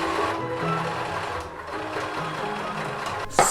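A sewing machine runs a basting stitch along a folded edge of thrifted fabric for a blanket coat. A fast, steady mechanical whir holds close and continuous, then ends in a brief clunk.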